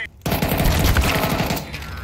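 Rapid automatic gunfire from Counter-Strike 2 rattles in a fast, continuous burst with some overlapping game noise, loud and close.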